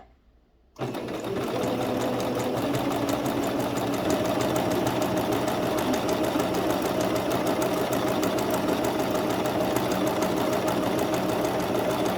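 A sewing machine running a continuous seam on a double-sided sousplat cover, starting abruptly after a short silence and then humming and chattering steadily and close without pause.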